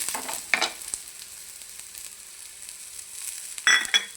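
Onion frying in oil with mint and ginger added, a close steady sizzle with a couple of sharper hissing bursts as ingredients drop into the hot pan.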